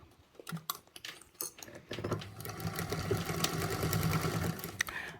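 A sewing machine runs a quarter-inch seam through a bag panel with a vinyl faux leather base, first in a few short bursts and then in a steady, faint whirring run of stitching.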